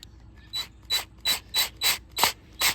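A screw is driven into a hanger on a mounted rock bass fish with a ratcheting tool, giving seven evenly spaced, loud rasping bursts with brief pauses between them.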